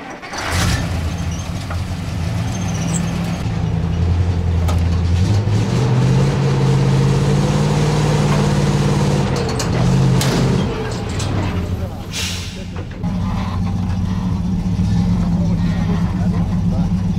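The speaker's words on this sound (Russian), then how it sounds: "Вытягиваем трактор. На первой передаче полный привод включен." A T-74 crawler tractor's engine runs steadily and loudly in first gear with all-wheel drive engaged as it is pulled out, its low drone shifting pitch midway through before settling back.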